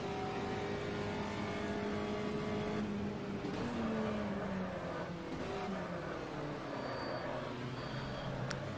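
A classic Brazilian race car engine in the Automobilista sim at Goiânia drones and revs continuously, loud and close, its pitch sweeping up and down through gear changes with no talk over it.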